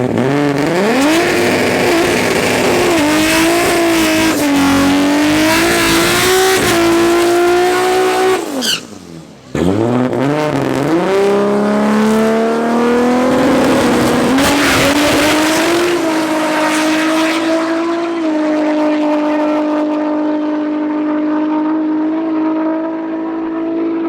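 Mark 4 Toyota Supra race car running a course at Tarlton International Raceway during an MSA regional round, loud engine climbing through gears with rising whine, a brief lift-off and shift, then fading as it pulls away.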